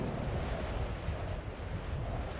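Strong wind gusts buffet the microphone high in the Alps, a steady loud broadband roar and rumble with no break throughout.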